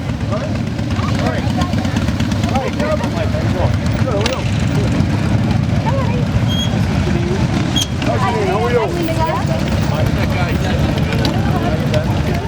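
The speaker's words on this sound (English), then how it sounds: "And more motorcycles kept coming in." More motorcycles pull in for a memorial ride, engines idling and rumbling in a continuous low drone, with occasional revs and a busy outdoor murmur around them.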